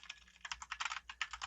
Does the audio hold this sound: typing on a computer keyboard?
yes